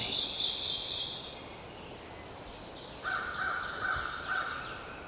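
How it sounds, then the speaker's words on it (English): A wild turkey gobbler sounds off with a loud, rattling gobble at the start, then distant bird calls carry faintly across an open outdoor setting with steady background hiss. "And he finally gobbled right here."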